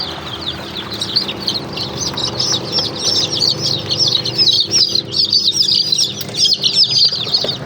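Baby chicks chirp and cheep in a steady, busy chorus of high calls inside a brooder box, with occasional wing flapping and rustling in the background.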